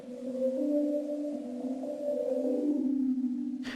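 A synth preset run through a flanger with very strong feedback drones in a tonal sweep, its pitch wavering and shifting in slow, whale-like movements, close and moderately loud.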